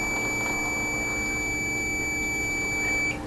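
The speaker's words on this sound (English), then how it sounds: "So that was a very long and sustained beep" A single high electronic tone from a LetPot LPH-Max hydroponics system powering on sounds steadily for about three seconds before cutting off, loud and unbroken over a faint background hum.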